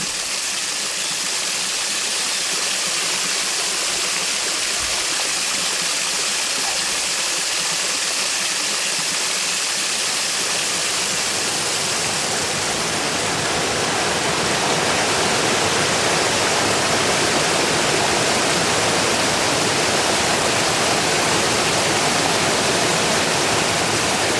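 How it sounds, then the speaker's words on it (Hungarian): Spring water gushes down a mountainside in southern Malawi, a loud, dense, unbroken rush that grows fuller and louder partway through and stays steady to the end. "ivóvíz tisztaságú víz tör elő a forrásaiból"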